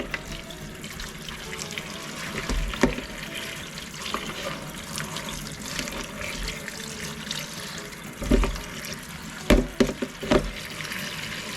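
Running tap water pours steadily over tomatillos being rinsed in a sink, a continuous close splashing stream with a few louder gushes and clatters near the end.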